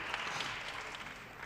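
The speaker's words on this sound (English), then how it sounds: "A big round of applause." Fairly faint, even clapping from an audience at a European cancer conference, a soft continuous patter lasting the whole moment without speech.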